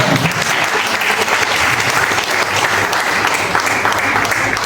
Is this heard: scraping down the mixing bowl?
no